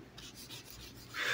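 A trading card pack being rubbed by hand, a soft, continuous rasping friction with a gentle repeated rhythm, quiet and close with no talk.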